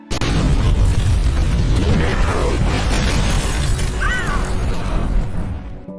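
A shotgun blast in the 2013 horror film Evil Dead lands as a heavy boom inside a loud, dense, continuous film soundtrack, with crashing and shattering debris layered throughout.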